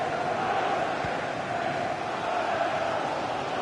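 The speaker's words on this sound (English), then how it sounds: "The crowd certainly think so. Just listen to that noise." A stadium crowd in the FC 26 football video game gives off a constant roar of cheering and chanting that stays loud and unbroken, with no commentary over it.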